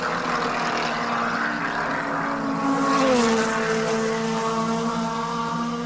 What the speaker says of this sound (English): these are brilliantly prepared and stunningly fast Formula Renaults. And sound incredible as well at the same time.